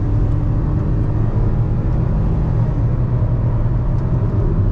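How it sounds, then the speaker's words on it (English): Ford car engine heard from inside the cabin: a loud, steady low rumbling drone with an even hum throughout, no voices. "though the engine sounds good, it gets a little bit loud for the passengers, especially if you have to rev it out again and again"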